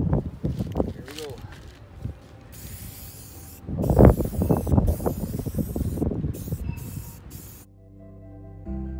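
Red spray paint hisses from an aerosol can onto a boat's anchor chain in short bursts, marking it every 100 feet, with people talking around the spraying.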